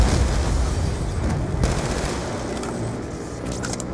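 Dense, continuous automatic gunfire and overlapping bursts from a Call of Duty Black Ops 2 campaign battle, loud and sustained with a few heavier booms mixed in and no talking.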